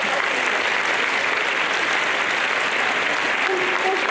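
An audience applauds the organizing team at a space festival opening ceremony, with loud, dense, continuous clapping throughout.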